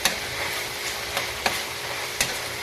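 Igado, a Filipino dish, is stirred in a frying pan, with a steady sizzle and a few sharp scrapes and clinks of the utensil against the pan, close and fairly quiet, with no talking.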